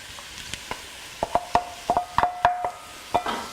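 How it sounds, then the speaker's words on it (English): Butter melts into oil in a pan for a turkey ragu while a utensil stirs it, making a scatter of sharp taps and clinks against the pan over a faint, quiet sizzle, close by and without voices. "give that a little stir around there while it melts"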